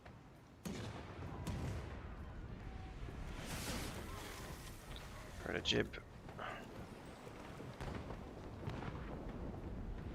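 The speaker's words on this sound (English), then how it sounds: "Fire the port cannons," Port-side cannons firing grape shot during a ship battle in Pillars of Eternity II: Deadfire, heard as several booming blasts over a continuous roar of sea and wind, with a voice talking throughout.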